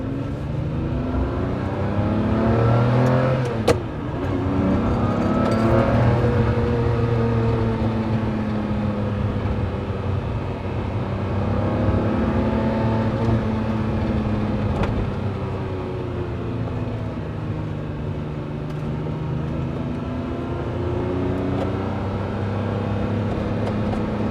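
A 2004 Lamborghini Murcielago's 6.2-liter engine runs steadily with a deep, rumbling drone, its pitch rising and falling as it revs and accelerates, loud and close throughout.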